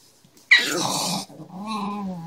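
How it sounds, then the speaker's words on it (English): A dog guarding treats lets out one sharp, loud bark followed by a low rumbling growl, close by with no talk. "What you barking at?"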